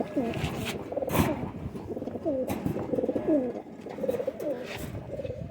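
Golden Kasoori pigeons cooing repeatedly in soft rolling phrases, several birds close by, under men's conversation.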